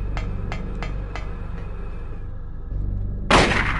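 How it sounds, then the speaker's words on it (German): Gunfire in the PS1 video game Silent Hill during a boss fight against Cybil: a few sharp metallic taps, then one loud, close blast near the end over a low droning game background. "Das war Schuss Nummer 5."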